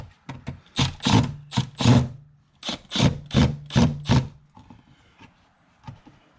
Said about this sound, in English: with your screwdriver or impact, you're gonna flip that tab over